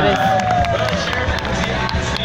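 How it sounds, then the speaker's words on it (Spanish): A crowd at a live show at Six Flags Mexico makes a loud, steady roar of cheering with some clapping. Voices and other noise mix in throughout. "Venga esas palmas."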